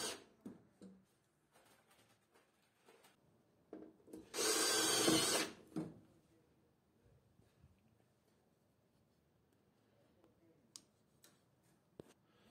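A power screwdriver drives screws to fasten rails inside an industrial electrical panel, giving one loud whirring burst of about a second, surrounded by quiet clicks and small handling taps.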